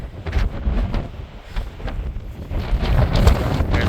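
Gusty wind buffets the microphone in low, uneven rumbles that swell and fade, growing stronger toward the end, with no voices, on the Appalachian Trail.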